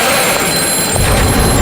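A telephone rings with a harsh, continuous electronic trill, loud and close, sounding alone for a brief burst.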